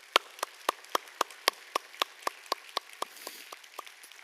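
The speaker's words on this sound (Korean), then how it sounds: "우리 이 자리에는 함께하지 못하지만 우리 선교사님들을 위해 감사 축복의 박수 올려드리면" A church congregation claps for its missionaries, sharp hand claps landing in a steady, evenly spaced beat of about four per second and fading slightly toward the end, with no talking.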